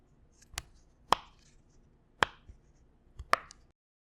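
Four sharp, crisp pops from a silicone pop-it fidget toy, spaced about a second apart, close and clear against a quiet background.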